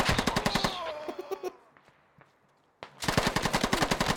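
Rapid automatic gunfire from hip-fired weapons during a 20 v 20 Squad match on the Belaya map, loud close bursts at start and end separated by a quieter gap with faint distant shots.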